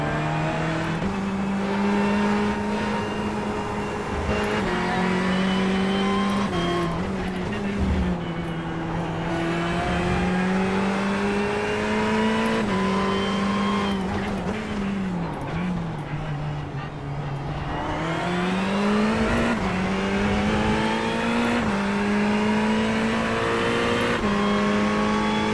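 A race car engine in the iRacing simulator drones continuously, its pitch rising and falling with throttle and gear changes, including a noticeable dip and climb midway, with no talk over it.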